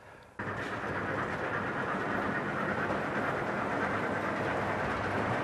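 A model railway train runs on a large exhibition layout, giving a continuous even rumble with a faint rhythmic rattle that begins suddenly and then holds at steady volume.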